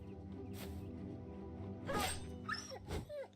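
Dogs yelp and whimper in the Battle Brothers video game, a few short sharp cries over a low droning game soundtrack, fairly quiet.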